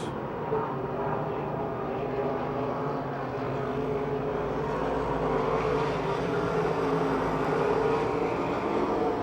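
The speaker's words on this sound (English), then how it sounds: "J.E. Stalter now to the inside of Tom Martinek as they battle for second" Race cars in a heat race at Pennsylvania Motor Speedway in Pittsburgh, a continuous broad engine roar from a pack of cars that holds steady and swells slightly, heard from a distance with no talk.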